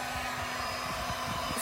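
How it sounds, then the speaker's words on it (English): A HomeRight heat gun runs at a steady, even whir while stripping paint from furniture, a constant blowing hum heard close and alone. "why don't I get out my HomeRight heat gun, which that's what you're hearing right here"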